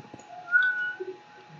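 A cat gives a brief, thin meow in a quiet room, a single short call heard alone.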